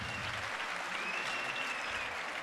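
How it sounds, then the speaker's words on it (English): Audience applause at a youth empowerment event's main stage, a steady, moderately distant wash of clapping with a faint voice briefly audible. "applause one more time"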